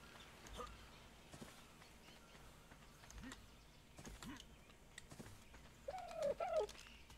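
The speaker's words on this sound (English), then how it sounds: "there's another dodo bird to run" A dodo calls in the survival game Ark, its short warbling cry rising near the end over quiet background footsteps and game ambience.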